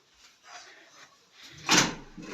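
A door opens with one sharp, loud clunk near the end, after a stretch of quiet rustling and faint voices nearby.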